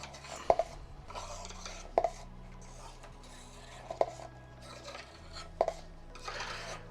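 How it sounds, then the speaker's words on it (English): A cranked palette knife scrapes up paint, making rough scraping and rubbing with a few sharp clicks and taps against the surface, close and steady over faint background tones. "I'm going to grab my spatula, my cranked palette knife I should say, and I'm just going to scrape this up"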